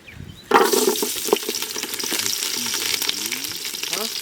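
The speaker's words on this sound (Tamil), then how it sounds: "எல்லாத்தையும் போட்டு வதக்கி அந்த மசாலாவை போட்டு சிக்கனை போட்டு ரெடி பண்ணுவோம்." Onions hit hot oil with a sudden loud sizzle, then keep frying steadily with stirring scrapes of a spoon in the pan, for a Chettinad chicken gravy.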